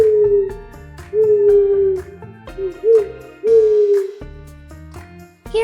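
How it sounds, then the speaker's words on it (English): An owl hoots over and over in a loud, close, evenly paced series of rounded calls, set against a soft musical backing. "Owls have big round eyes and stay awake at night. They say hoo-hoo."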